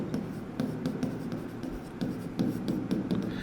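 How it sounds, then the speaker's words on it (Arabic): Pen writing a word by hand on paper, a steady scratching of strokes with short pauses between letters, close and moderately quiet, with no talk. "انا ممكن اكتب هنا اهو"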